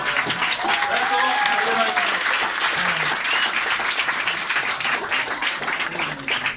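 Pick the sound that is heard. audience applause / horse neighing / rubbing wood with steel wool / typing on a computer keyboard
audience applause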